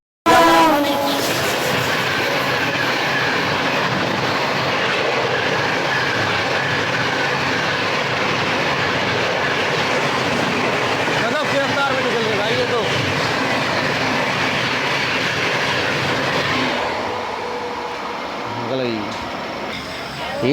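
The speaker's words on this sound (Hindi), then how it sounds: "फ्लैट 130 की रफ्तार में ओवरटेक मार के गई है सियालदा राजधानी" The Sealdah Rajdhani Express overtakes at a flat 130 km/h, a loud sustained rush and rumble of passing coaches that roars for most of the clip before easing off near the end.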